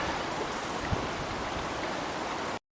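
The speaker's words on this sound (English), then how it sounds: "So the water comes out there and it spirals all the way down to the bottom, to the pool." Water spirals down a stone channel into a pool below a hillside church in Portugal, a loud, steady rushing roar like a small waterfall, unbroken until it cuts off abruptly.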